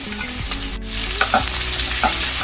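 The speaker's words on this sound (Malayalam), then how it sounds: "ഇതിലോട്ട് നമുക്ക് അരിഞ്ഞു വെച്ചിട്ടുള്ള വലിയ സവോള ഇട്ട് കൊടുക്കാം" Chopped large onions dropped into hot oil in a pan and stirred while cooking for a Kerala fish molly, a loud, close sizzle with sharp spoon-on-pan scrapes and clinks, no voices.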